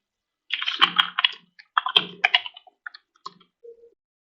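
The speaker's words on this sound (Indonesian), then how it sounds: "Sekarang saya akan coba untuk merekam suara saya ngetik," Quick bursts of clicky keystrokes on a keyboard, typed in two short flurries followed by a few scattered taps in an otherwise quiet room, recorded through a Fantech WH01 headset.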